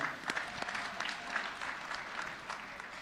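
Audience at a performance contracts signing and awards ceremony clapping, a moderate, steady round of applause from a seated crowd, somewhat distant and fairly quiet.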